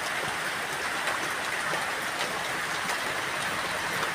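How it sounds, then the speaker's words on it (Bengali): Rain falling steadily over village farmland in the afternoon, a constant dense patter with scattered drops standing out from the wash, moderately loud and with no voices. "বৃষ্টি শুরু হয়ে গেছে, অলরেডি বৃষ্টি পড়ছে"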